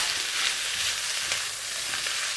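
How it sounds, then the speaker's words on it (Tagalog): Bamboo shoots sautéing and being stirred in a pan, a steady close sizzle with faint scraping stir strokes throughout, no talking. "Igigisa ko siya. Stir ko siya."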